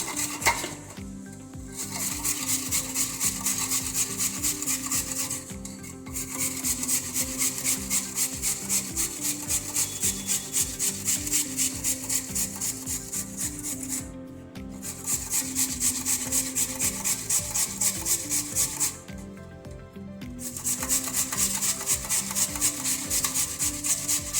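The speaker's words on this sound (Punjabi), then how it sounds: "ਹੁਣ ਆਪਾਂ ਗਾਜਰਾਂ ਨੂੰ ਕ੍ਰਸ਼ ਕਰ ਲਵਾਂਗੇ" Carrots being grated for sweet jaggery rice, a steady, continuous rasping scrape repeated in long runs with brief pauses, close and loud with no talking.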